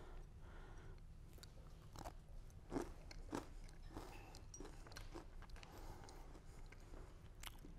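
Crunchy homemade holiday toffee being chewed during a cooking competition show, giving faint, close crackling crunches and bites at an irregular pace, with no talking over them.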